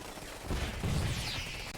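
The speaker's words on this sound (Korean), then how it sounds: "오 집중 사격 좋아요" Focused gunfire from a Command & Conquer 3 Kane's Wrath battle, a dense muffled rattle of shots in a busy mix of combat noise, fairly loud and continuous.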